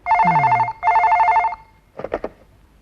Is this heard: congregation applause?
no